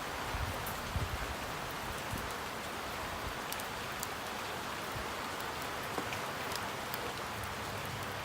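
Rain falls outdoors in a steady hiss with scattered drops pattering on nearby surfaces around a fire box, continuous and even throughout, no talk.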